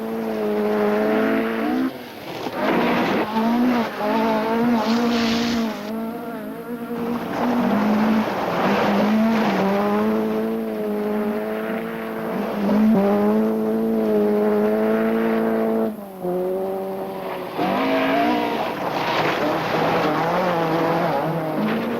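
Rally cars at the Criterium de Quebec race past, engines revving and shifting in rising and falling whines with tire squeal and skidding, loud and close throughout without speech.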